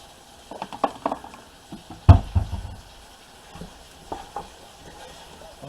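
Pasta sauce with black pepper and Italian seasoning stirred in a pan, irregular scrapes and knocks of the utensil against the pan over a faint sizzle, one sharp clang standing out near the middle.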